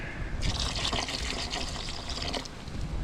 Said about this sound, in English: gonna need just a little more water.